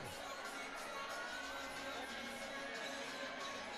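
Fans at a girls' high school volleyball game between McFarland and Jefferson on senior night, a faint, steady crowd murmur and cheering heard from a distance.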